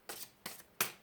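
Three quick, close riffles of a deck of tarot cards being shuffled, each a short papery burst at an even pace, heard alone.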